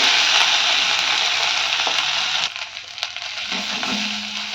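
Chopped onions sizzle in hot oil in a pan, a loud continuous frying hiss that drops off partway through, leaving softer crackles and a few clinks of stirring.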